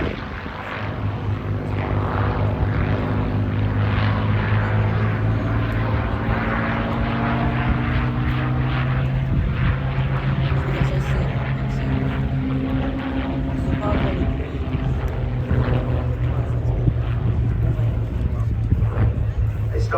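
A Supermarine Spitfire LF XVIe and a Curtiss Kittyhawk Mk1A, WWII warbirds, fly a display with a loud, continuous droning propeller-engine roar, and a voice talks over it throughout.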